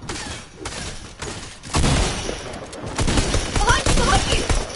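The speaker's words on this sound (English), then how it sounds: "you're getting shredded by a pistol" Pistol gunfire in the video game Fortnite crackles in rapid, repeated bursts at close range, loud and sharp over busy game noise, with a voice talking underneath at times.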